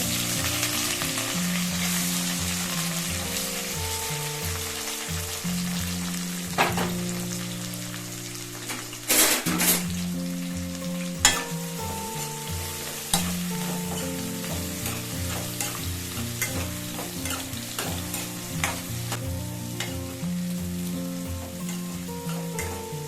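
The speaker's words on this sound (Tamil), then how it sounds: "வெங்காயம், கருவேப்பிலையும் சேர்த்துருங்க" Onion, curry leaves, cinnamon, cloves, fennel seeds and bay leaf sizzle steadily in hot oil, a dense continuous crackle with occasional stirring clicks and a soft hum of kitchen noise beneath, no voices.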